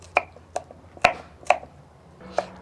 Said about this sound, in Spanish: Este también lo vamos a picar en cuadritos, pero hay que cortarle antes las puntitas.